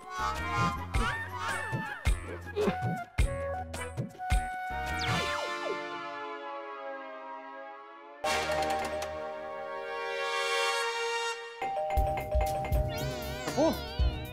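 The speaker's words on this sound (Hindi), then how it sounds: "वो कौन घंटी बजा रहा है?" A doorbell chimes in a home within a Hindi TV comedy, ringing repeatedly with tonal ding-dong notes amid music and other sounds, fairly loud and near.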